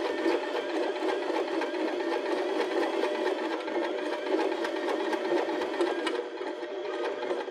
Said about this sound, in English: So it looks good and we're ready to sew.